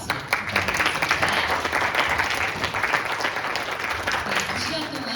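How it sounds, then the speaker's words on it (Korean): Lecture audience at a university special talk on job hunting breaks into sustained applause, a dense, even wash of many hands clapping at close range for several seconds. "박장호 강사님께 다시 한번 뜨거운 박수 부탁드리겠습니다"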